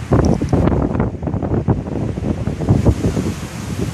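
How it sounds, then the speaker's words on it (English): Gusting storm wind of around 30 miles per hour roars in uneven surges against the microphone, loud and buffeting, with no voices. "these gust winds are probably around 30 miles per hour, the ones that we're getting right now"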